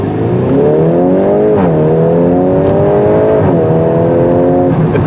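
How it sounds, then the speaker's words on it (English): A 2025 VW Golf R in race mode revs loudly close by, its engine note climbing through quick gear changes with short dips between pulls, with no voices over it. "When you put it in race mode, the transmission shifts really quick and the exhaust sounds really loud."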